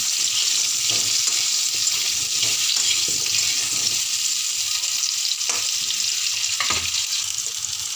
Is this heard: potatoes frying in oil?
yes